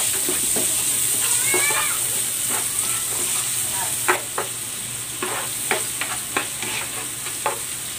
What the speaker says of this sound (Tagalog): Maglalagay ako ng butter. Igigisa ko na tong sibuyas.